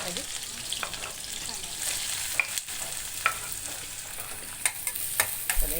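Chili and onion frying in a pan for kanda poha, a steady broadband sizzle with scattered stirring clicks and spoon scrapes, close and continuous with no voices.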